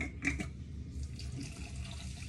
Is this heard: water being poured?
yes